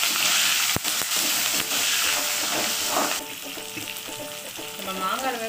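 Chopped onions with green chilies fry in hot oil for raw mango rice, a loud, close, steady sizzle with a sharp clink of stirring, easing slightly in the second half.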